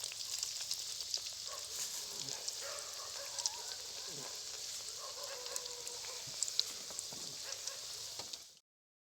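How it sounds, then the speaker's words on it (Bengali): Battered eggplant fritters deep-frying in hot oil, a dense, steady sizzling hiss with scattered pops and faint voices in the background, ending abruptly. "আর সবশেষে আমরা গরম গরম বেগুনি ভেজে নিচ্ছি।"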